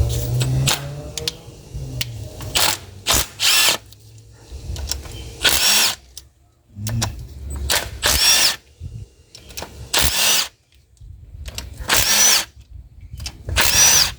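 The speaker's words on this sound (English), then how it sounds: "Right, so I'm going to unbolt here now." A power tool unbolts a motorcycle part in repeated short bursts, loud close whirring spurts separated by pauses and softer handling noises.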